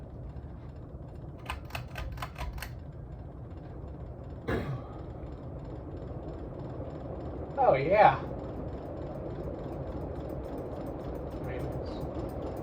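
A Litex hugger-style ceiling fan with a ball-and-socket mount runs on high and wobbles, giving a steady broadband whoosh with scattered light clicks and rattles; brief talk and a sigh are heard over it.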